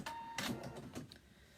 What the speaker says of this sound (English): I'm just sewing right off the end of these and cutting the threads.